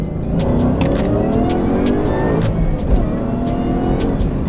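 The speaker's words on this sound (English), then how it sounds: "I could hear the supercharger scream because the exhaust is not that loud" A supercharged 2017 Ford Mustang with a Roush Phase 2 supercharger accelerating hard, engine revving loudly and continuously with a rising high-pitched supercharger whine layered over the roar, up close.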